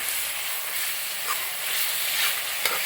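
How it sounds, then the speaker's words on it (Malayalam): Prawn roast masala with tomato, cooked in the Achayan style with small onions, sizzles steadily in a pan as it is stirred. Occasional soft scrapes rise over the close, continuous frying hiss. "നന്നായിട്ട് ഇളക്കി കൊടുക്കുക"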